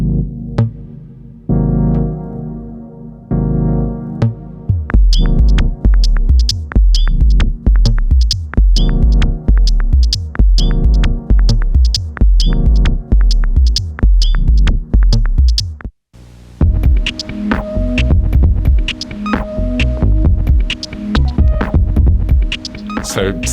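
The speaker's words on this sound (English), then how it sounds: "all Moog Mavis sounds are processed with reverb and distortion and all that sort of things, but still, everything came from the Moog Mavis" Beats built entirely from Moog Mavis synthesizer samples, processed with reverb and distortion: loud, punchy drum hits in a steady rhythm over droning bass tones, with a brief dropout before the groove resumes, no voices.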